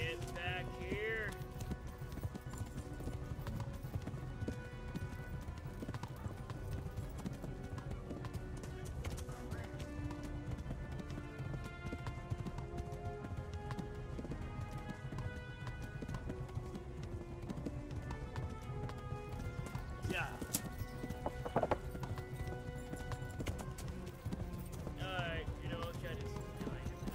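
Horse hooves clip-clop at a gallop in the medieval video game Kingdom Come Deliverance, a steady rhythmic beat running under constant game music and voices, with a horse whinny briefly breaking through.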